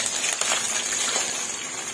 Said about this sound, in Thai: ก็ทอดปลาเริ่มเหลืองค่ะพี่น้องเทน้ำมันออกเลยค่ะ